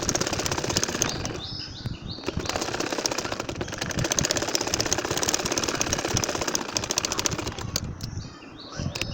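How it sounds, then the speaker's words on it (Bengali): A sewing machine stitches a nakshi kantha quilt with a steady, close mechanical whirring and rattling that runs on without pause and without talk. "আবার সাইডে আরও একটা সেলাই করে নিব।"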